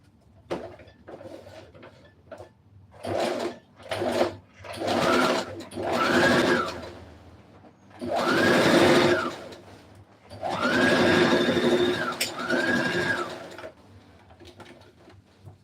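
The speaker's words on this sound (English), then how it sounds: "I'm going to sew the sides." A sewing machine stitches the side seams of a dress facing in several bursts of fast mechanical whirring, each lasting a second or two and separated by short pauses, close and clear.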